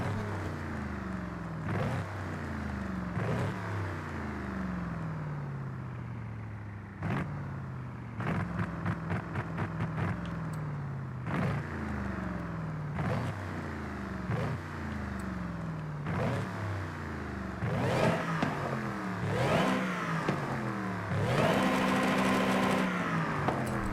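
A car engine in the racing game Forza Horizon 5 revs repeatedly, each burst climbing in pitch before dropping, with a rapid rattling stretch midway and a sustained high rev at the end, loud and without talk.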